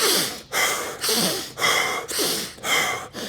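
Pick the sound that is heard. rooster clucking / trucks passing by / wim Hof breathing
wim Hof breathing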